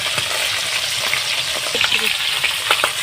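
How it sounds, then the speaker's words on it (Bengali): Rohu fish heads sizzling hard in hot oil in a pan, a dense steady crackle running throughout with occasional louder spits and pops, close and with no voices. "মাছের মুড়োগুলো একটু ভালোভাবে লাল লাল করে ভেজে নিতে হয়"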